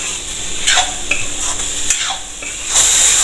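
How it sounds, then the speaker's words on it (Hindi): Finely chopped tomatoes (three or four) sizzle steadily in oil in a pan and are stirred with a spatula, scraping and clinking at intervals, with no voices. "टमाटर को भी सॉफ्ट होने तक भून लेते हैं।"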